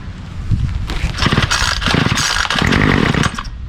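A gas string trimmer engine starts from cold and catches, then buzzes loudly and raggedly up close as it revs and sputters unevenly.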